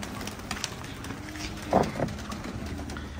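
Pigeons outdoors give a brief, moderately loud burst of cooing and fluttering midway through, set against steady background hiss and faint ambient noise.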